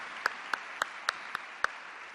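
Sparse applause at a NABE opening general session keynote: six crisp, evenly spaced claps, about four per second, stand out faintly above a steady hall hiss, as though only a few hands in the audience are clapping.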